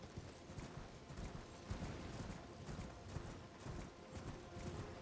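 Horse hooves clopping in a steady galloping rhythm in the Elden Ring: Shadow of the Erdtree game, loud and continuous throughout, with no talking.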